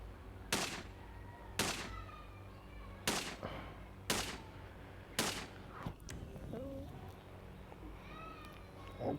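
Gunfire aimed at zombies in the Indian Bikes Driving 3D video game: five sharp, loud shots at a steady pace of about one per second, followed by quieter game effects and background hum.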